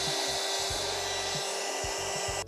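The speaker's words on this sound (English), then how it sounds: "I am going to heat this up with the blow dryer for a little bit" A hair dryer blows steadily and close on a wax candle, softening its top, a continuous broadband whoosh with a constant hum running under it, while low thumps and bumps from handling sound through.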